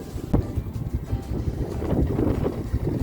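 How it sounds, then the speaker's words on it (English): Wind gusts hard across the microphone on a snowy day in the bush, a constant low rumbling buffet with uneven surges, loud and close, with no voices. "Sorry about the wind, but it's snowing."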